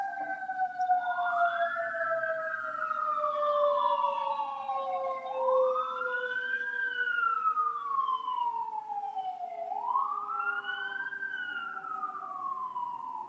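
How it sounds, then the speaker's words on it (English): An ambulance siren wails in long rising and falling sweeps, repeating about every four seconds, as the vehicle passes along a road at moderate distance with a faint traffic hum beneath. "I'm going to let this ambulance run through as confirmation."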